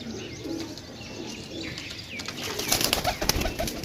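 A pigeon with a blue tail is let go at a pigeon sale in Sarai Alamgir, giving soft low coos, followed by a burst of wing flapping and rustling near the end.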